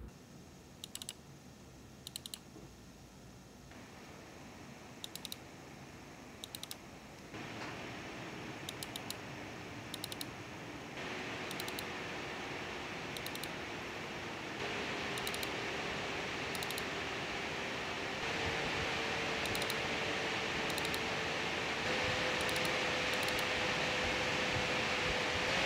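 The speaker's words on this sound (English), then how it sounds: "here's just a sound sample of the card at various fan percentages" Fans on a Sapphire Nitro+ RX 6700 XT graphics card whir up in stepped stages, the airy hiss growing louder and higher with each speed increase, while keyboard clicks tap intermittently in bursts.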